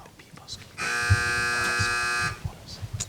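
A loud electronic buzzer at a Hi-Q quiz match sounds once for about a second and a half, a harsh sustained tone, with people talking before and after.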